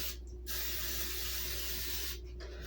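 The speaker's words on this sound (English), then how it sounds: "We're going to spray this. My waffle iron is ready." Cooking spray hisses onto a hot waffle iron in one steady, close burst lasting about two seconds, with a low electrical hum underneath and no talking.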